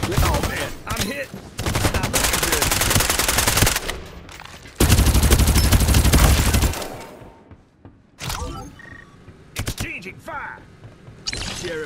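Gunfire in the Farlight 84 video game: long bursts of rapid automatic fire, loud and sustained, separated by short gaps and a later scatter of single shots and clatter, with game voice lines mixed in.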